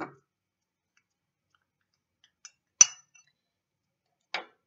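A wine bottle and a wine glass clink together in a few sharp, isolated taps spaced out over near silence, the loudest strike ringing briefly in the middle.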